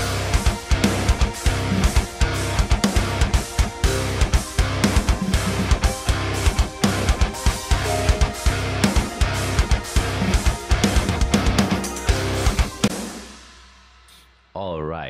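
Mixed metal-style drum kit from the GetGood Drums P4 library plays a dense, hard-hitting groove with rapid kick and snare hits under ringing cymbals, loud and full, cutting off abruptly near the end.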